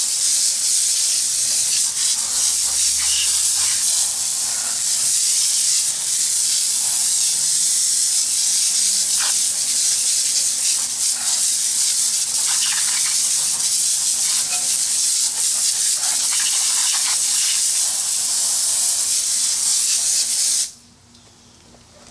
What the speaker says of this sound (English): And give it a full rinse, and we'll see how it did.